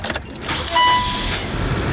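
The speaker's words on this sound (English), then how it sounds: "Cranks right up." A 2002 Nissan Sentra engine cranks and catches in about two seconds, a steady close rumble with a brief whine and some light jingling partway through.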